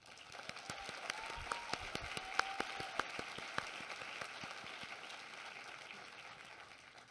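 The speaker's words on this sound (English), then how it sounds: "So give yourself a well-deserved big round of applause as well." PhD graduates in gowns give a round of applause at a commencement ceremony; dense, steady clapping from a large crowd heard at a distance in a big hall, with a few sharper individual claps standing out.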